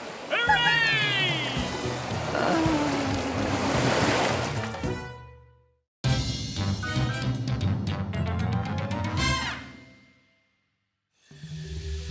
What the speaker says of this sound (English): Tide come in. Wash us free.